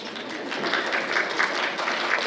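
An audience at a middle school holiday band concert applauds, giving a steady wash of many hands clapping throughout, moderately loud and even.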